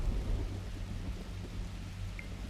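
Thunder from a lightning strike in the video game The Universim rumbles low and steady under a continuous wash of rain, with no voices present.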